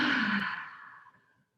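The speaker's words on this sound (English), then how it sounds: "Maybe with an audible exhale." A single audible exhale through the mouth, soft and close, a breathy sigh that starts full and fades away over about a second and a half.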